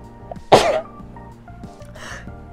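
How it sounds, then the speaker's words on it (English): A single sharp, explosive sneeze bursts out near the start, loud and close, followed by quieter breathy sounds and faint background noise. "I hate sneezing."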